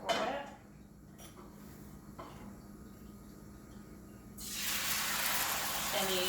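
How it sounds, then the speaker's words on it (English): Cooking spray hisses onto a frying pan in a steady, loud burst that fills the last couple of seconds, after a quieter stretch of kitchen background. "We're going to spray our pan again"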